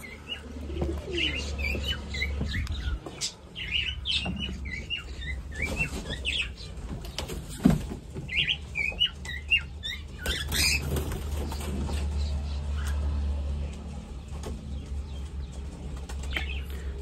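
Caged pigeons coo low and throaty while small birds chirp and tweet around them, with occasional wing flutters and rustling close by.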